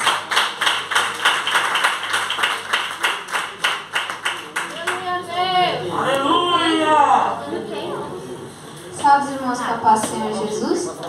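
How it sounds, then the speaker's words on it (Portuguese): A church congregation claps hands in a strong, steady rhythm during a Portuguese-language worship service for about five seconds, then the clapping fades as voices take over. "Receba a serva do Senhor com fortes palmas para Jesus."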